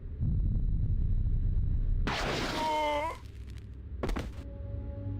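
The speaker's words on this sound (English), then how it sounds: "Men, ready blasters. Aim." Soldiers fire blasters in Star Wars: Knights of the Old Republic II on Onderon, two loud sharp bursts of crackling energy shots with ringing, sweeping tails, separated by about two seconds.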